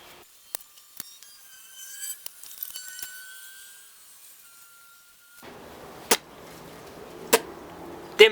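Hand sanding of a Damascus steel skinning knife blade, a soft dry rasping rub in short irregular strokes, fairly close and quiet, with a few sharper scrapes and taps toward the end.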